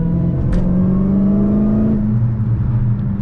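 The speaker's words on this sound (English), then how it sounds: "And I love the sounds, the Mopar V8 and the supercharged whine." A Dodge Challenger SRT Hellcat Redeye Widebody's supercharged Mopar V8 drones steadily and loudly from inside the cabin, its deep engine tone shifting pitch as the car changes speed, with a faint whine above and no voices.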